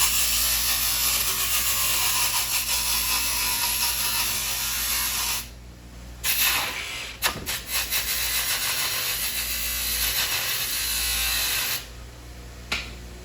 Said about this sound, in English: If you haven't used a benchtop polisher before, hopefully we get through this.